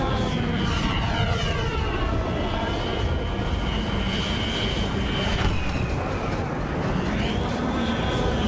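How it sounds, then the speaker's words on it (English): Y-wing starfighters from Star Wars Battlefront roar in with a steady, loud engine drone, and whooshing pitch sweeps rise and fall as the craft pass by. The sound stays continuous and dense throughout. "Y-wings inbound."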